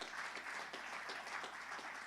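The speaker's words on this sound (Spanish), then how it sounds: "hermano, por favor, den un aplauso al Cristo de la gloria" A church congregation applauds Christ during a sermon, a soft, distant, continuous patter of many hands clapping with no clear voice on top.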